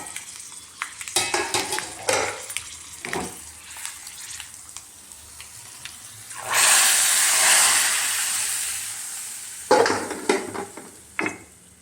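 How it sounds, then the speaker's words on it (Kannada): Curry-leaf tempering goes into lentil sambar: clinks and stirring in a pot, then a loud hissing sizzle that swells and fades over about three seconds, followed by more spoon clatter. "ಸ್ಟವ್ ಆಫ್ ಮಾಡಿ ಒಗ್ಗರಣೆ ಸಾಂಬಾರೊಳಗೆ ಹಾಕೋಣ"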